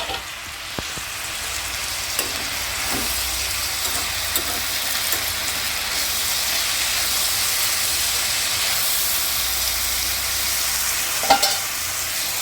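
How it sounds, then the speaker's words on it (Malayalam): Spinach thoran with cumin and turmeric being stirred in an open pan, a steady hissing sizzle with soft scraping stirs and a few light clicks from the spoon against the pan. "അടപ്പ തുറന്ന് ഒന്ന് ഇളക്കി നോക്കാം"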